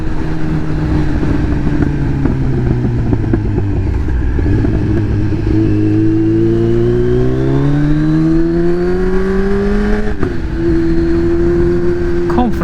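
A Kawasaki Z900 with a remap hums loudly and steadily while riding, its engine note dipping and then rising smoothly through acceleration with constant wind rush, and a voice talks over it.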